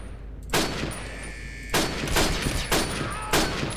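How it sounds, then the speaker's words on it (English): Bursts of World War II era gunfire in the Call of Duty: United Offensive video game, loud rapid volleys repeating about four times in quick succession, with no talk over them. "Just pile a few bullets straight in his direction and we'll be okay"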